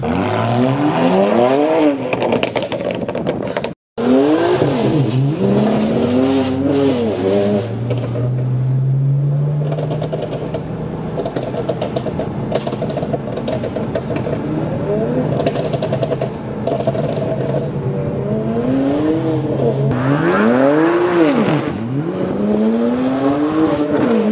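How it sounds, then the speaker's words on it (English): A BMW 335i with an N54 engine, built to 460 whp with downpipes and a muffler delete, revs and accelerates hard. Its loud, raspy exhaust sweeps up and down repeatedly across the pass and stays close throughout. "He has my my previous exhaust setup with the muffler delete and the downpipes."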